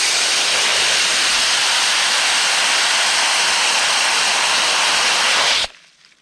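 Water poured steadily onto the base of an aubergine plant in a vegetable garden, a continuous loud hissing rush that stops abruptly near the end.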